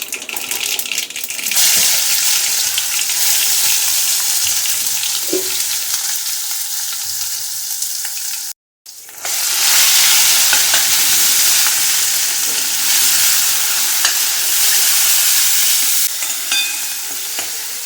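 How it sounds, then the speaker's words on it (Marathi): Spice masala of cumin, mustard seed, asafoetida and grated coconut sizzles as it is sautéed in a pan, a loud, continuous frying hiss with stirring that breaks off for a moment partway through and then resumes. "मसाला आपल्याला चांगला परतून घ्यायचा आहे"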